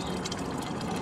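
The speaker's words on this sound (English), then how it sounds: "we're getting much less water out per minute, but you can still drain the tank completely dry this way" Water runs out of a HabiHut water kiosk tank through a narrow outlet, a constant close gushing and splashing that stays steady for the whole moment.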